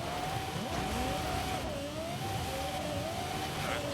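A race car in the Forza Horizon 5 video game, with an engine that sounds like a V10, runs at high revs in a steady, droning whine that wavers slightly in pitch and stays loud throughout.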